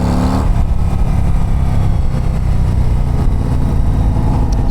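A 2024 Harley-Davidson CVO ST motorcycle engine under way in sport mode, a loud, close, rumbling low-pitched drone that stays steady with wind noise layered on top.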